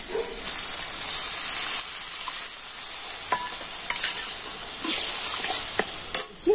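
Spice paste poured into a pan of frying tomatoes sets off a loud, steady sizzle with bubbling hiss, rising and easing in waves, with a few light utensil scrapes and no voices, all for a vegetarian eggless omelette curry.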